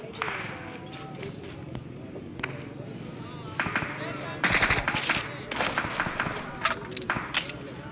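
Bursts of automatic gunfire in the video game PUBG rattle in rapid volleys over steady game background noise, growing denser toward the end, while a voice talks over them.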